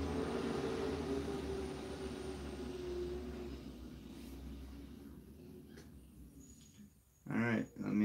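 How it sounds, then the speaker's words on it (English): Garbage truck rumbling past outside, a low engine drone with a faint high whine that fades away over several seconds, followed by a short burst of voice at the end. "The trash truck is actually going by."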